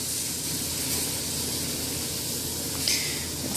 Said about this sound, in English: It's sizzling nicely.